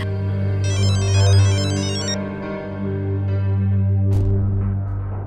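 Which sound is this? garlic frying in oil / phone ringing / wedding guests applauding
phone ringing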